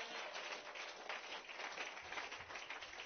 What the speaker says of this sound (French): Donnez une bonne main d'acclamation au Seigneur.